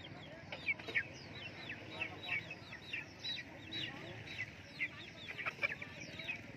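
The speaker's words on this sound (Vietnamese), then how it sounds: "Đây có cả gà rừng." Jungle fowl clucking among caged songbirds at a bird market in Lạng Sơn, short chirps and clucks repeating in a busy chorus over a dense low market hubbub.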